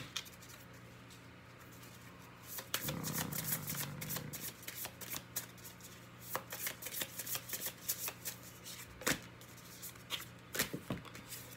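Oracle cards are shuffled by hand for a tarot reading, with soft papery riffles and rapid flutters, then a run of quick, close, uneven slaps and taps as the deck is worked, fairly quiet with no talk.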